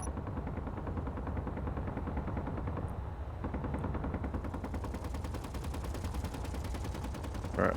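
Rapid gunfire from an enemy ship's dorsal and ventral guns in a space combat video game, a steady fast stream of shots that runs loud and unbroken throughout, with no talk.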